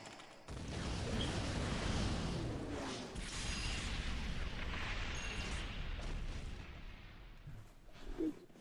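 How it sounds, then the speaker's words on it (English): Vapor bomb blast in a war-edition ninja battle game, a sudden heavy boom launching into a long rumbling roar of debris and fire that slowly fades over several seconds, with no speech. "Send a vapor bomb!"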